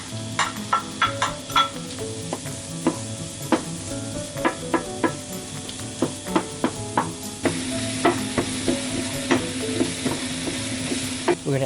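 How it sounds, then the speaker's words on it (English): Onions sautéing in melted butter in a pan, a steady sizzle punctuated by regular, rhythmic scraping and clacking stir strokes, up close with no talking. "Once the butter has melted, let's saute the onions until they are almost translucent."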